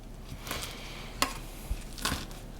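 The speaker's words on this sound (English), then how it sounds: "what we're gonna do is just keep chopping it until it's a fine chop" Fresh basil being finely chopped, a few scattered knife strikes on a board at uneven intervals over a soft background hiss, with no talking.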